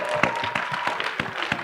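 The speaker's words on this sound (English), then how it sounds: "So round of applause for that" A conference audience at a media career day panel gives a round of applause, a brief patter of scattered hand claps from a moderate-sized room with no one speaking.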